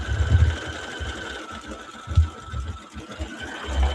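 An embroidery sewing machine stitches out a design on a wedding quilt, running as a steady, close mechanical whir with a fast, even needle rhythm and a few heavier thumps, with no talking.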